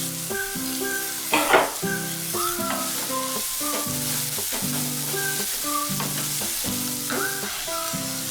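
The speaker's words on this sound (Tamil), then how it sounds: "ஆனியன்லாம் நல்லா வதங்கிடுச்சு" Onions sauté with ginger-garlic paste and green chilies in a pan for a prawn egg fry, a steady sizzle broken by stirring scrapes, with tonal music playing over the cooking.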